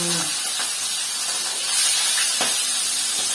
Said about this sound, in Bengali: আচ্ছা তেল দিয়ে শুধু ভাজা হচ্ছে